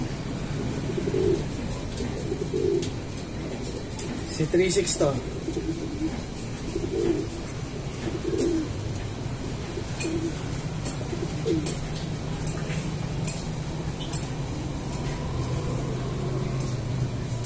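Pigeons belonging to new pigeon fanciers coo repeatedly at close range, soft and steady, over a low constant background hum, while someone talks over them throughout.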